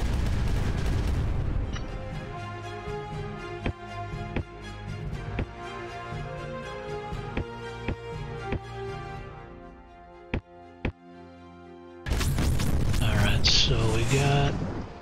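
Cannons firing in Creeper World 4, sharp booms scattered at irregular intervals over a droning tonal music bed, followed by a burst of louder noisy game effects near the end.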